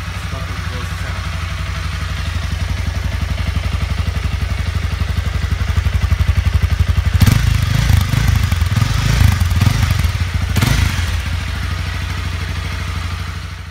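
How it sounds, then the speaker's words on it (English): A Honda CB300F motorcycle on its stock exhaust runs steadily close by, a loud, even engine throb with a brief rise and some clattering thumps partway through. "Cb300f stock exhaust sound."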